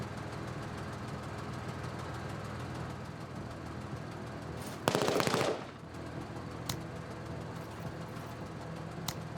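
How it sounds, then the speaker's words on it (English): A chain gun in a video game rips off a short, loud burst of rapid fire over a steady rumbling background, followed by a couple of sharp isolated cracks. "Chain gun."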